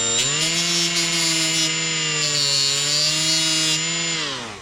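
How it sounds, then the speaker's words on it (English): A die grinder fitted with a small flap wheel, run at low speed to touch up a burr while filing a chainsaw chain, gives a steady high-pitched whine that holds continuously and close, alone without talk. "Another way that I found also works pretty good for filing these down is just with a die grinder."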